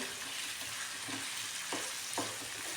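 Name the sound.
stirring chapati pieces with tomato sauce in a pan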